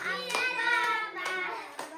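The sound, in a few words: hands clapping at a birthday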